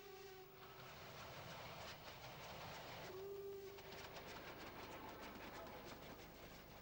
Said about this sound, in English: The train almost fully comprised of Great Western coaches.